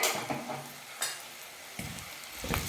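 Turmeric and spices are stirred in a sizzling pan for curry leaf kulambu, with a few scraping strokes over a soft, steady frying hiss.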